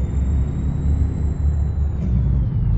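A Freightliner Classic XL's engine brake rumbles in Euro Truck Simulator 2, a deep steady low-pitched drone with a faint high whine above it, continuous and close for a few seconds.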